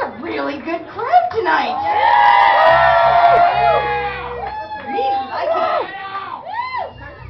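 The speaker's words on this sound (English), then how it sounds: "This is a really good crowd" A party crowd aboard a cruise boat whoops and cheers with rising shouts and a long sustained yell, loud and close, with voices calling out throughout.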